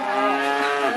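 A cow lets out one loud, sustained moo at close range, filling the whole moment with a steady, rich tone.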